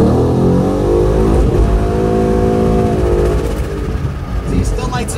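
A 2011 Ford Mustang GT with 285/40 rear tires and 3.73 gears accelerates hard from about 35 mph, its loud engine revving steadily and the tone climbing and dropping through a quick shift into third, with tire noise throughout.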